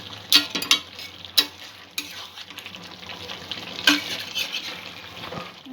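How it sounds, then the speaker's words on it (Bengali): Chicken curry meat is stirred in a pot, a spoon scraping and knocking against the sides in a few loud strokes over a soft background sizzle, with sharper clanks near the start and again midway. "2 মিনিট 3 মিনিট পরই আমি মাংসটা নাড়া দিচ্ছি"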